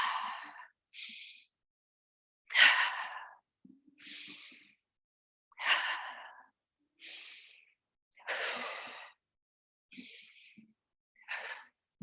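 Forceful exhales from a yoga breathing exercise with a kundalini flavor, repeated as a steady series of short breathy bursts about every second or so, close and clear with quiet gaps between.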